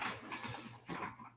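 A household dog makes a faint, brief whine or whimper somewhere nearby, quiet and short with no talking.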